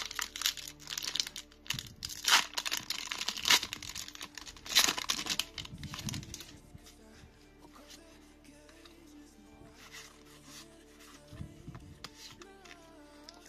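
Pokémon TCG Crown Zenith booster pack being torn open by hand, with bursts of crinkling foil and ripping up close, then quieter rustling handling of the pack and cards, no voice over it.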